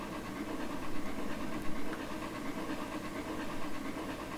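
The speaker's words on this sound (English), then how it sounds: "it sounds like this locomotive's moving pretty quick. It's that triple cylinder action" Steady low rumble of a simulated 4-8-4 steam locomotive with three cylinders in Trainz 2019, rolling at slow speed with a busy, continuous chuffing texture, faint and distant, no talking.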